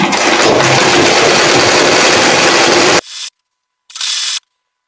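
A sewing machine stitches fabric for pajamas in a loud, continuous whirring run, then stops and gives two shorter bursts, close up with no talking.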